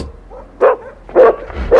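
A dog barks three times in short, spaced bursts, fairly close and loud, with no voices over it.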